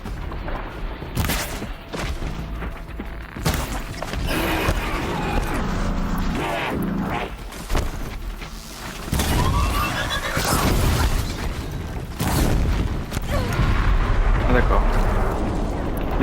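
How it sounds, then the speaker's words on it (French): Large in-game explosion in Horizon Zero Dawn, a loud rumbling blast with crashing debris and sustained booming roar over a game soundtrack, while a player talks over it throughout. "L'explosion elle est vraiment grande."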